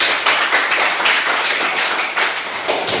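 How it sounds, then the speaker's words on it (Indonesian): A classroom of students claps, with many hands producing a dense, steady patter of applause close by that lasts for a few seconds without talk. "Oke, tepuk tangan dulu Kak."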